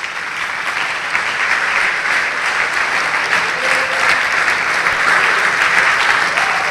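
A standing congregation at a Brazilian evangelical service applauds in praise of Jesus, the clapping dense and loud, rolling on steadily with a few whoops rising over it.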